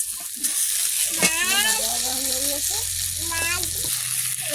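Fish frying in a pan with turmeric, a steady sizzling and crackling hiss throughout, with a voice speaking over the frying.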